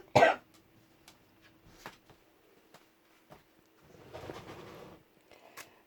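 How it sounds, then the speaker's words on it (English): A single sharp, close cough at the start, followed by quieter throat sounds and faint rustling in an otherwise quiet indoor space. "I'm going to cough again, sorry."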